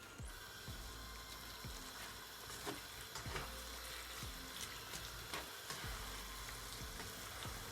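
Seasoned ground beef for tacos fries in a pan with a steady, faint hiss, while a spoon scrapes and turns it at irregular intervals. No one speaks.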